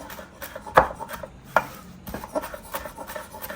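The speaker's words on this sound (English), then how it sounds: "we're gonna run the knife through our parsley one more time" A knife chops finely cut parsley on a board, giving a few sharp, close knocks among lighter scraping taps in an irregular rhythm.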